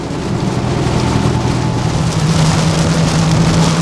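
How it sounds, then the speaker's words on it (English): Steady rain falls in a dense, even hiss with no pauses, and a low hum sits underneath the whole time. "this is why I like running all seasons, because it rains like this quite often here"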